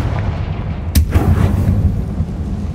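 In the Hogwarts Legacy video game, the Confringo fire spell lands with a single sharp, loud blast followed by a short rumbling decay over a low background ambience.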